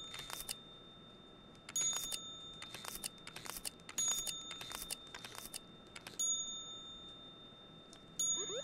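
In the game CV2, a timer-triggered ding chimes repeatedly, bright and bell-like, alongside clicking and tapping sounds and some tonal hum, recurring at roughly regular intervals with no speech.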